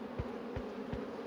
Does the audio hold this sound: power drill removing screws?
no